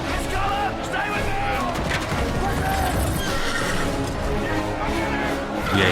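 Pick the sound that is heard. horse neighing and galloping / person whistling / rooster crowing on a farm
horse neighing and galloping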